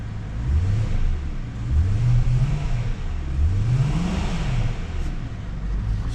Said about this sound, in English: I don't want to rev the car too hard because it is cold.